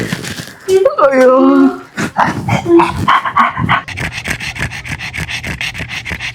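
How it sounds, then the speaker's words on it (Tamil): A dog barks and pants close by, with scraping, rubbing noises and a person's voice mixed in over several seconds. "நாயெல்லாம் குலைக்கிற சவுண்டு கேக்குது"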